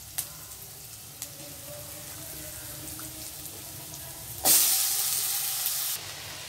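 Eggplant hits a pan with onion and chili, and a sharp, bright sizzle bursts up and holds for over a second before fading, following quiet kitchen background with a few faint clicks.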